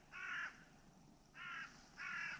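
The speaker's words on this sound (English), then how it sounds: "A crow going over." A crow flying overhead gives three harsh caws in a slow, even series, moderately distant and clear against a quiet outdoor background with no talking.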